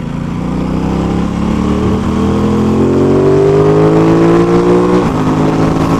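Aprilia RS660 sport motorcycle accelerating hard on an open road, its engine note rising steadily through the gears with one quick upshift near the end, loud and close over constant wind rush.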